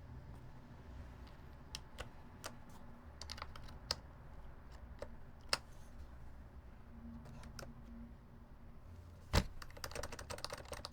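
Quiet keyboard typing with scattered single keystrokes and short bursts, including one louder sharp click near the end, against a faint steady room hum.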